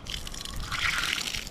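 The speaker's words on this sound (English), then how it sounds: "I had to turn the water off for her because she couldn't figure the dang thing out." Water running from a campground tap, a close splashing, trickling stream that swells midway and then cuts off with a brief thump at the end.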